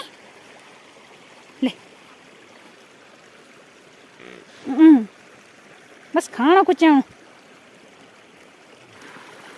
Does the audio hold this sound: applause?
no